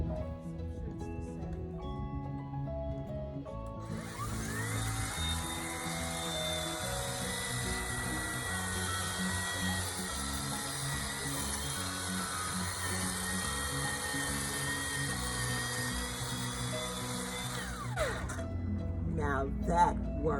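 A powered pruning tool cuts an Asparagus densiflorus branch, giving a steady buzzing whine that starts abruptly and runs for about fourteen seconds before cutting off, over a low background hum.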